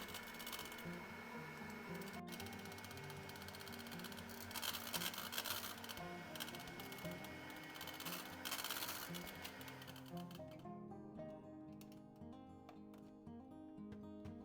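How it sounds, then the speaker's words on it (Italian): An electric mixer whips egg whites with a spoonful of sugar for tiramisu, giving a faint, steady motor whir with a drifting hum that continues throughout without a break. No one speaks. "Montiamo gli albumi con un cucchiaio di zucchero fino a ottenere una consistenza soffice, lucida e ben stabile."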